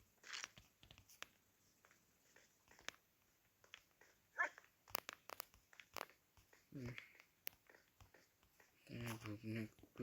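An in-game dog in Minecraft barks a few short times amid clicks and other game noises, while a voice talks over much of it.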